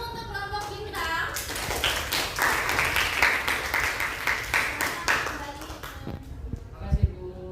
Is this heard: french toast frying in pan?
no